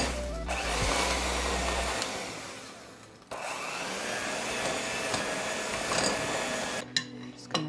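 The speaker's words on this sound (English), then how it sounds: "I have a hand mixer. I am just going to beat this all until it is light and fluffy and mixed." Electric hand mixer beating muffin batter with cream cheese for keto chocolate muffins, a steady high motor whine that cuts out briefly midway and starts again, close and loud with no talk.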